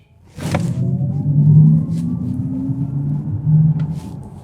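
An Audi e-tron GT electric car launches hard in dynamic mode, a low rising electric whine and rumble building steadily from rest, loud and close with no talk over it.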